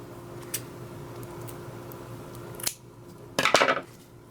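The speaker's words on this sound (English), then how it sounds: "So I fold the ribbon in half, open it at the bottom, fold at the top, and cut it a diagonal." Scissors snipping through ribbon for a patriotic deco mesh wreath, one short click near the start, then a sharp closing snip and a brief rustling cut, close and quiet against a faint steady hum.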